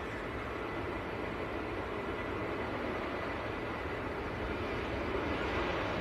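Ryanair airliner departing Manchester airport, a continuous distant engine rumble and roar that stays steady and even in level, with no talk.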